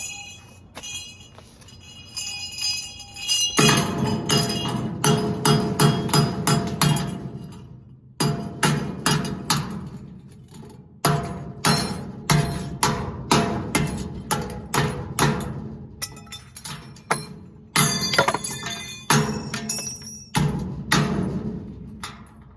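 Hammer blows strike a metal bell again and again in rapid bursts, each hit a sharp, ringing clang, with short pauses between volleys.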